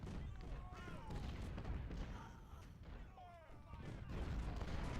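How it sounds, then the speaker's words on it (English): Artillery fire in a Civil War strategy video game, a steady wash of distant booms and rumbling battle noise running throughout, with a couple of brief whistling tones rising over it. "I'm starting to take artillery fire"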